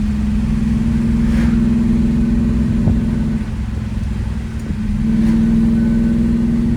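A 1969 Chevrolet Chevelle SS 396 with a 4-speed manual pulls away from a start in third gear, its engine a steady, loud low rumble that dips briefly and then picks back up, heard close with no talking.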